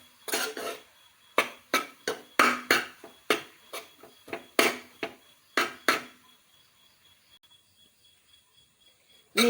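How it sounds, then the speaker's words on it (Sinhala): String hopper koththu being mixed in a pan, a run of sharp, irregular clattering scrapes and knocks of utensil against metal, fairly close, then a quiet pause before one last knock. "මේ විදිහට මේක හොඳින් කලවම් කරගන්න."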